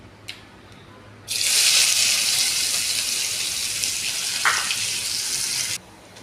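Onions dropped into hot oil after frying katla fish burst into a loud, bright sizzle that starts suddenly and holds steady for about four seconds before stopping, close by and alone.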